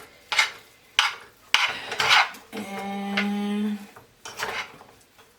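A utensil scrapes and stirs rice in a pan, producing several short scraping strokes followed by a brief metallic ringing clang, close and fairly loud, with a single spoken word.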